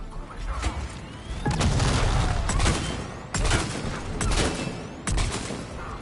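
Gunfire bursts from a Mass Effect sniper rifle battle, several loud booming shots with crashing impacts over a dense continuous combat din, each blast separated by a second or two.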